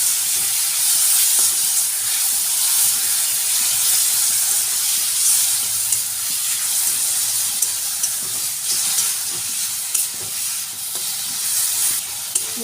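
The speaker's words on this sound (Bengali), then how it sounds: "মশলাটা দিয়ে বেশ ভালো করে কষানো হয়ে গেছে।" Ground spice paste frying in a pan for a drumstick curry, a loud, continuous hissing sizzle throughout with faint scraping from stirring beneath it.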